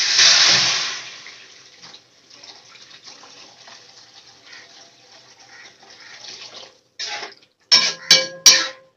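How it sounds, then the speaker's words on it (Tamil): Water poured into a cooking pan on a stove for semiya upma, starting with a loud gushing pour that trails into quieter splashing and sizzling, followed by a few sharp clattering knocks near the end. "சேமியாவுக்கு தேவையான தண்ணி ஊற்றணும்."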